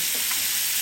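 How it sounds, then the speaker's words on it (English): Garlic, thyme and rosemary sizzle loudly in a hot pan alongside filet mignon, a dense, continuous close frying hiss with no pause. "we're going to add our garlic in here, some thyme and rosemary to infuse that into our meat"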